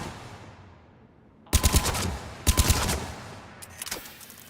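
Weapon fire in the video game Mass Effect 3 comes as two loud rapid bursts of shots, close and punchy, with a fainter shot trailing afterward.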